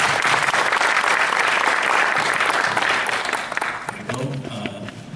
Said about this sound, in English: So let's give a round of applause to everyone.